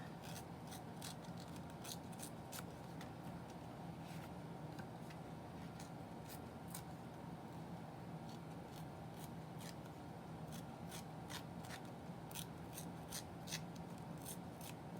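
Quiet, repeated short rasping rips as the edges of designer series paper are torn by hand for a card-making craft, coming in irregular bursts over a faint steady background.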